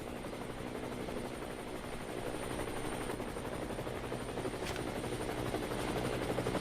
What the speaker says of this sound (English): We hear the helicopter noise?